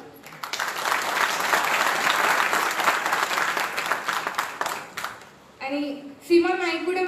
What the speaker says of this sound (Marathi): टाळ्यांचा आवाज कमी झालाय